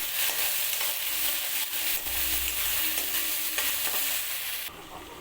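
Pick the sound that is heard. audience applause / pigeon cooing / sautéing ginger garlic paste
sautéing ginger garlic paste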